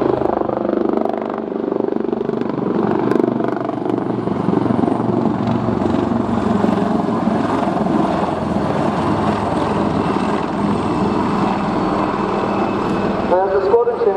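Royal Navy Westland Wildcat helicopters flying a display at RIAT 2016 air show, a continuous rotor and turbine rumble with a shifting drone throughout, under a narrator's voice.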